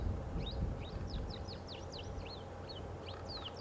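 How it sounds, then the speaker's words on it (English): A sunbird calls repeatedly in quick, high, thin slurred notes over a low rumbling background during a safari drive, fairly close and lively. "There's a sunbird calling very loudly."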